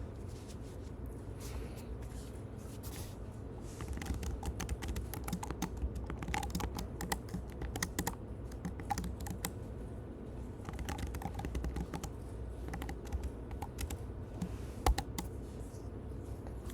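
Computer keyboard keys on the number row struck in a loose burst of random clicks and taps, close and moderately loud over a low room hum, with no talking.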